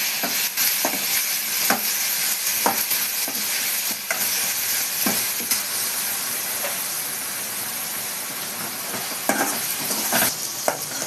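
Ingredients frying for aviyal in a pan, a dense close hiss and sizzle that runs steadily throughout, broken by brief clicks and spatters.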